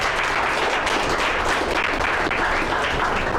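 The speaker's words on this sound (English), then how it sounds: "So give yourself a round of applause for showing up today" Audience applause at an investor event, a dense, steady wash of clapping from many hands that holds evenly throughout with no voices on top.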